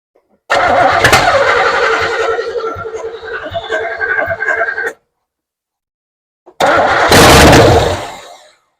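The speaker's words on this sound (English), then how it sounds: "It was running, but I was just cranking" A third-generation car with a 350 V8 cranks for several seconds and fires up loudly nearby, then after a short pause the engine cranks and catches again in a second loud burst.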